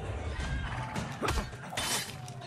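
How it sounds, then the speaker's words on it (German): Horses run amok in the video game Assassin's Creed Brotherhood, whinnying loudly over a dense wash of clattering and crashing noise, with no talking. "jetzt laufen die Pferde hier amok"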